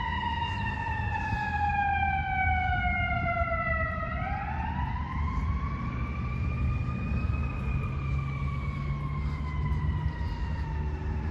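A fire engine siren wailing steadily beside a rail line, a loud rising and falling wail that dips, swoops back up and holds, over a continuous rumbling background with no voices.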